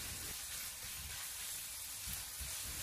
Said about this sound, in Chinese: 将剁好的肉末放进锅中，用小火将它慢慢的煸炒一下